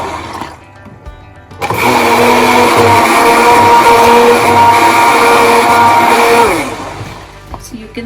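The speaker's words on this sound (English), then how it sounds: "So for this I'm going to use my hand blender" A hand blender whirs steadily for about five seconds while mixing kadhi batter of gram flour and yogurt for Indian pakora curry, starting abruptly and then cutting off, loud and close.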